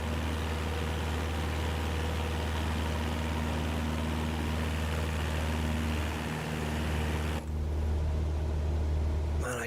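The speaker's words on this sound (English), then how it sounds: "I just moved the throttle a tiny bit and I even heard the sound of the engine just make that change" Steady drone of an aircraft engine in Microsoft Flight Simulator 2024 during a flight from Denver, a loud continuous hum that shifts slightly in tone near the end as the throttle is nudged.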